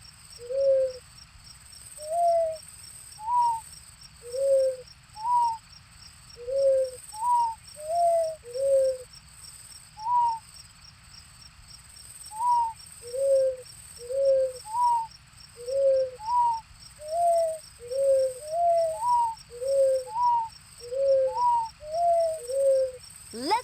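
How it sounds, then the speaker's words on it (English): A night scene in the 1999 PlayStation game Barbie Race & Ride: an owl's soft two-note hoots repeat steadily, one to two a second, over a constant background of chirping crickets. "That sounds like an owl."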